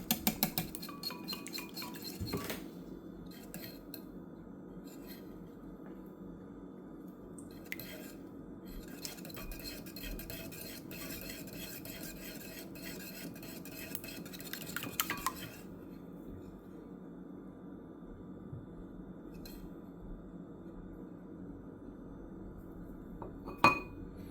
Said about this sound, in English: I'm going to whisk this all together